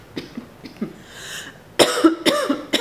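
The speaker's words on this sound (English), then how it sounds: "We've all got this allergy thing going on, and it makes me cough." Several coughs from a person with an allergy-related post-nasal drip: a few soft, muffled coughs at first, then two louder, harsher close-up coughs, with no talking.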